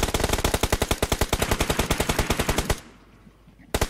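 Rapid automatic gunfire in a video game, aimed at a vehicle: a loud, close burst of about twenty evenly spaced shots that runs nearly three seconds, breaks off into a faint tail, then one more sharp shot at the end.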